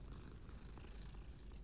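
Cat purring while being petted in Hogwarts Legacy, a faint, low continuous rumble held steady throughout.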